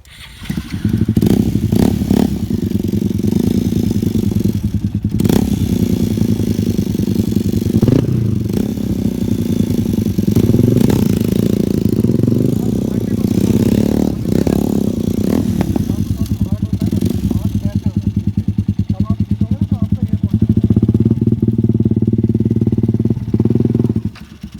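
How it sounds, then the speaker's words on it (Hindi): A motorcycle engine revs hard and steadily for a stunt spin at a bike stunt academy, a loud sustained drone with throttle surges throughout, while people talk over it. "थोड़ा थ्रॉटल लो, ज़्यादा लो, स्पिन कराना है बाइक को, पावर से घुमाना है हमें।"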